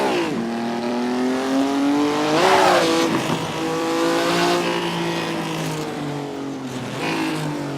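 A high-horsepower racing car in a driving game revs and accelerates, its engine note climbing through gears with a brief tire squeal midway, loud and close throughout.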